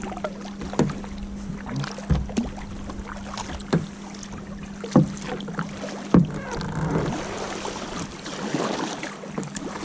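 Kayak paddles dip and pull through the water on a Norwegian outing, each stroke a soft splash repeating every second or two, with light wind over the microphone and a faint steady hum underneath.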